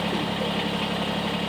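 A Kubota BX23S compact tractor idles steadily just after start-up, a constant low engine rumble with even vibration throughout and no talking.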